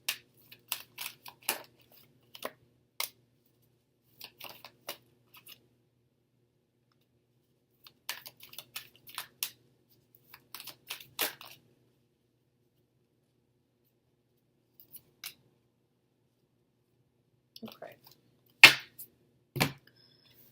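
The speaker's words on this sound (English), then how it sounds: "I'm going to pull out 3 cards for you guys." Tarot cards being shuffled and pulled, a scattered run of faint, close, dry clicks and flicks in short bursts separated by quiet gaps, with one sharper snap near the end.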